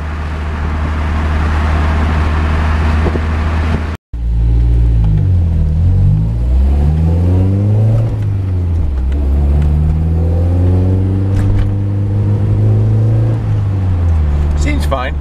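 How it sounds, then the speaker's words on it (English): A Toyota's engine and exhaust run steadily while driving, with a loud, continuous low drone whose pitch rises and falls through revs and gear changes, briefly cutting out once. A voice talks over the engine. "Yeah, exhaust is no quieter."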